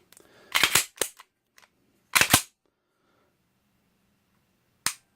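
Canik TP9 SFX pistol trigger reset, heard as sharp, close mechanical clicks: a quick double snap, a second tight pair about a second and a half later, then one lone click near the end, in a quiet room.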